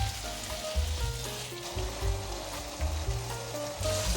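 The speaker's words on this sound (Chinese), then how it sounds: "大约再炒了3分钟左右，现在放入椰子丝" A soft, continuous sizzle of stir-frying, broken by low, regular scraping thumps as shredded coconut is tossed through a vegan dish in the pan.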